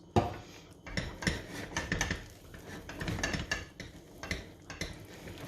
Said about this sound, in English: Just give it a good mix.